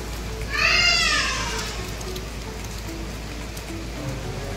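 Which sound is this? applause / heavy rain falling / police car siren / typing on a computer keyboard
heavy rain falling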